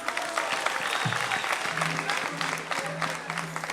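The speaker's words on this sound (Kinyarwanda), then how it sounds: "Mukomere amashyi intore zirusha intambwe." Audience applause at a Rwandan public gathering, steady dense clapping throughout with crowd murmur underneath, fairly close and continuous.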